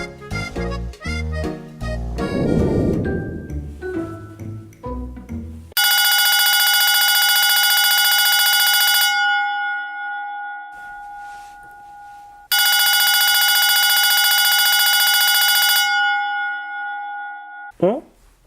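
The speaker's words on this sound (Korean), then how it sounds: "왜 전화지?" After a short burst of music, an old-style telephone bell rings loudly twice, each long ring followed by a fading tail and pause.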